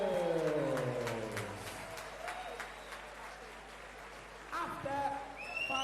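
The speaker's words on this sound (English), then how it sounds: "can we please have a massive round of applause for both of our fighters" Applause for both Muay Thai fighters at a Leapfrog Fight Night event after five rounds, a steady spread of clapping that holds through the stretch and swells slightly near the end, with a voice speaking over it at the start.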